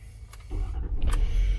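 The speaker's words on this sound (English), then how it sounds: "Truck fires right up, no problem, good oil pressure." An XLT pickup truck engine cranks briefly and catches, settling into a low close rumbling idle after a couple of quick clicks and whirs.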